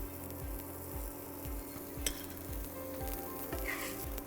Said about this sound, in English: Let the hing cook a little, and at that stage, we'll add some ginger,